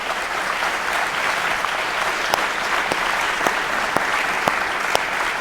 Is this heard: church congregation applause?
yes